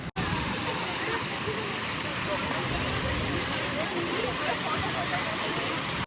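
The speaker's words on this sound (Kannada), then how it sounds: "ಈ ಬಿಸಿಲಲ್ಲಿ ಸಾಕಾಗೆ ನೀರು ಕಾರಂಜಿ ಎಗರುತ್ತಾ ಇದೆ." Water fountain spraying in a sunny garden at Lalbagh in Bengaluru, a steady, close, broadband hiss of falling water running unbroken throughout.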